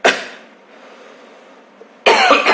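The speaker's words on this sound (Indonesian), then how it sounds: "Pesan saya batuknya baru hari ini sih, parah banget hari ini tuh" A sharp cough bursts out at the start and another harsh cough follows about two seconds later. Both are close and loud from a sick person in a hospital isolation room, with near silence between them.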